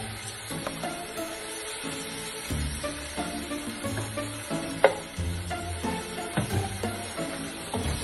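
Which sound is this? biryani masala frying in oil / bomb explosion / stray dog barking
biryani masala frying in oil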